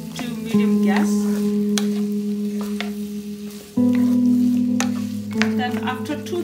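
Lamb mince sizzles steadily in a pan over low to medium gas while being stirred, with scattered scrapes and clicks over a constant frying hiss and a low burner hum, close and fairly loud with no talk.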